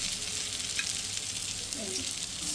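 Banana flower goes into a pan of potatoes fried with poppy seed paste, bringing a steady, fairly loud sizzle and frying hiss with light stirring scrapes, no voices.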